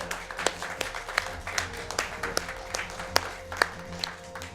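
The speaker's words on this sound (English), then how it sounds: "Can we get a round of applause for Lori and Corey?" An audience at a live RPG Limit Break 2019 charity speedrunning event claps for a few seconds, with scattered distinct claps over a steady low hum of room noise.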